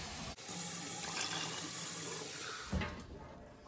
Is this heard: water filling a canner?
yes